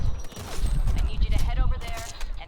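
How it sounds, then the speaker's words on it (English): Video game gunfire, with dense bursts of shots and rattling fire over a low rumble, sounding continuously under a speaking voice for the whole stretch. "we got a lot of gunfire here."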